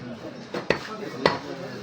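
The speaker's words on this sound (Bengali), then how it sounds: "গোস্ত কাটাও অনেক সুন্দর হচ্ছে।" A knife cuts beef with two sharp, close strikes about half a second apart against a steady low background of a butcher's setting.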